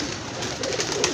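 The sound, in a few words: pigeons cooing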